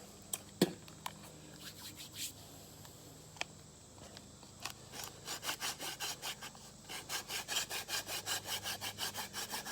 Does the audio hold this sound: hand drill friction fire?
yes